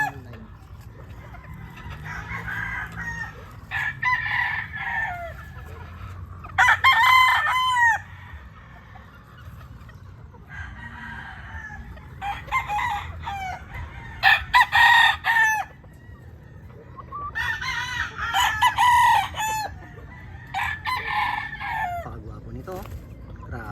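A pure Super Brown Red brood stag rooster of the Mt Banahaw line crows repeatedly, several loud cock-a-doodle-doo calls in separate bursts over a low background hum, with faint clucking between them.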